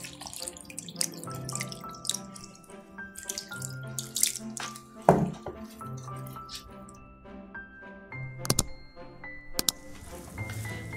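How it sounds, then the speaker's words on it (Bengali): Water poured into pita bread dough being mixed by hand in a home kitchen, a soft splashing and trickle heard beneath steady background music, with a couple of brief louder clinks. "এখন পানি দিয়ে দিব"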